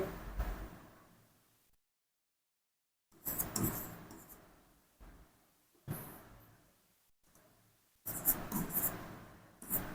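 Pen or marker strokes writing out a class 6 maths solution, heard as several separate bursts of scratchy scribbling with short pauses between, close and fairly quiet.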